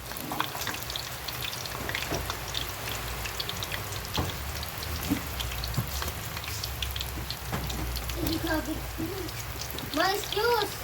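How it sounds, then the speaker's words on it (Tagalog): Steady rain patters and hisses on surfaces outside a house front, a dense even wash of drops throughout, with faint voices and a brief higher-pitched vocal sound near the end. "Umulan na, guys."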